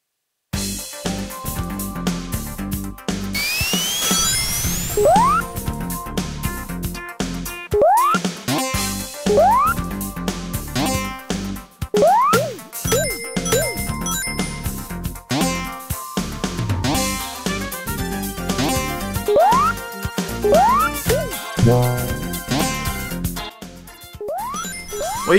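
Stage music from Sonic CD, a bouncy game tune with a recurring rising honk, like a donkey's bray, popping up every second or two over the melody.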